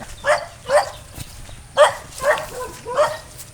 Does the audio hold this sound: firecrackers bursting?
no